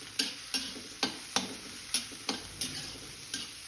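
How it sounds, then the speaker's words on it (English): Chopped onions cook in a kadai with ghee and oil, giving a low, soft sizzle under a series of sharp, evenly spaced spatula clicks against the pan, about eight strikes that grow slightly fainter. "Then fry until transparent."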